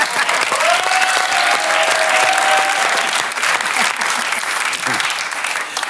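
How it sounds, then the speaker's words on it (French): Studio audience applause on a French TV talk show, a loud, dense and sustained burst of clapping that thins slightly toward the end, with a brief tone and faint voices under it. "dès que c'est raffiné, j'ai les applaudissements"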